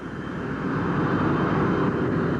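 Military aircraft engines power up as the planes roll out toward the taxi strip, a loud, steady broadband roar that swells slightly and holds without pause, with no talk over it.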